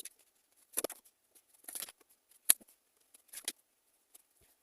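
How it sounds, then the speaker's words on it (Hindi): Tarot cards being drawn and handled during a Scorpio reading: faint, sparse papery slides and soft taps come in a few short bursts with quiet gaps between them. "चलिए कुछ कार्ड्स लेते हैं।"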